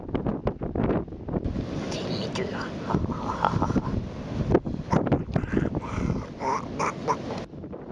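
Gusty wind buffets the microphone on an Irish coastal walk near a reverse waterfall, a steady rough roar with louder bursts while people speak quietly nearby.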